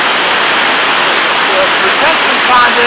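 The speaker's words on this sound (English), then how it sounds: "you can see the water rippling in, coming down, cascades down to some rocks there, got a little bit of rapids coming down." Water from a retention pond cascades down over rocks into small rapids outdoors, a loud, steady rushing wash that fills the whole stretch without pause.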